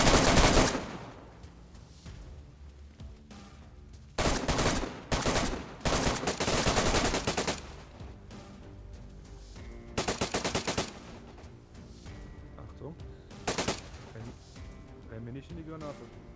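Bursts of rapid automatic gunfire in DayZ on PlayStation 5, loud rattling volleys separated by quieter stretches, with someone talking over the shooting.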